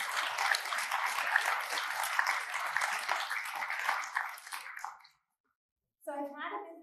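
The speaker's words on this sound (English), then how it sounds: "I'd like to give them a nice warm kind of round of applause for everything they do." Audience applause for transit workers fills a room with dense, steady clapping for about five seconds, then breaks off into a short pause before a voice starts speaking.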